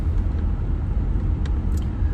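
Steady low rumble of a moving car heard from the cabin, loud and continuous, with faint ticks and a couple of brief higher squeaks, and no talking.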